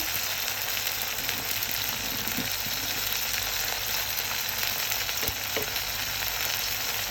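Garlic and onion paste frying for a water lily curry, a steady dense sizzle at even loudness throughout with a couple of faint utensil knocks, close and without talk.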